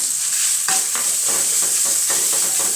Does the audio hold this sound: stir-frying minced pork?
yes